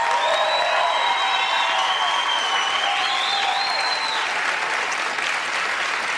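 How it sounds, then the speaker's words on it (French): Studio audience at a Loft Story Québec gala gives Christelle sustained, dense applause, loud and continuous throughout, with a few faint whistles and cheers rising above the clapping. "on applaudit Christelle"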